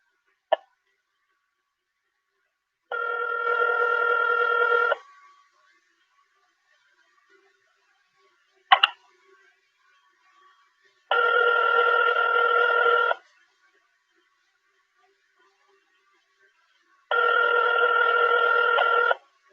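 A telephone ringback tone sounds three times in long steady bursts of about two seconds, separated by silence, with a couple of brief clicks between rings during a call back.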